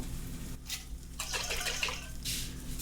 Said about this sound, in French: on va mettre un petit peu d'eau là-dedans